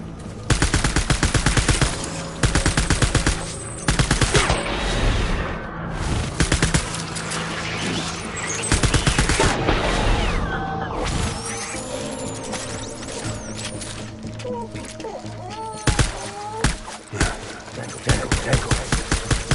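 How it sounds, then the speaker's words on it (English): Gunfire in Death Stranding, with long loud bursts of rapid automatic fire repeated across the scene, separated by brief lulls, and occasional faint chirps and battlefield noise between bursts. "Taking fire."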